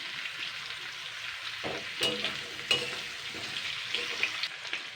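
Green chillies and leafy vegetables fry lightly in a pan, a steady close hiss of sizzling oil broken by several stirring strokes that scrape and crackle louder for a moment; no voices.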